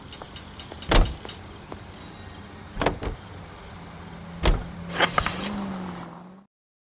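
A car in a PS4 video game: several heavy door thuds land at intervals, then the engine turns over and settles into a low, steady idle near the end. No one speaks.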